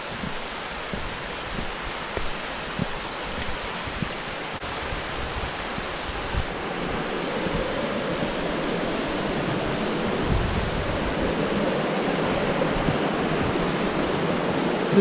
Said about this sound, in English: The water coming down.